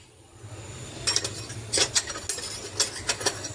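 Chicken being mixed with dry spices, red chilli powder, garam masala and coriander powder for a gravy, irregular clinks and scrapes of a spoon against a bowl, close and moderately loud, with no talking.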